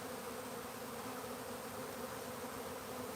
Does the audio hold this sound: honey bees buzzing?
yes